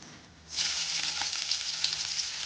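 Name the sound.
garlic sizzling in hot oil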